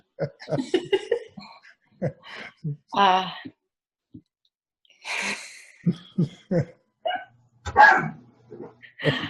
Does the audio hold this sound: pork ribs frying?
no